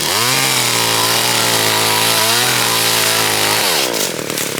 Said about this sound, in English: I bought me a new chainsaw